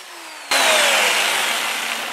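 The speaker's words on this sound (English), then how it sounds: "Sand it in reverse at about 300, maybe about 380." A macadamia wood bowl spins in reverse on a lathe while it is sanded. A steady, loud, broadband whoosh starts abruptly and keeps going, over a faint motor hum heard just before it.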